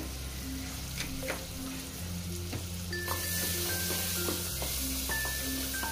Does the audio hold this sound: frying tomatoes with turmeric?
yes